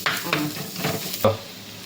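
Chicken curry masala is stirred in a clay pot, several quick scraping strokes over a light sizzle, close and fairly quiet, with no voices.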